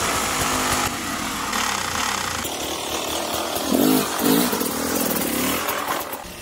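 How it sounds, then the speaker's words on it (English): Enduro motorcycle engine revving as the rider blips the throttle and drops the clutch to climb a wet tractor tyre obstacle, loud buzzing two-stroke-like drone with two distinct rising rev surges midway, close by. "then you do your second blip of throttle with a controlled drop of the clutch"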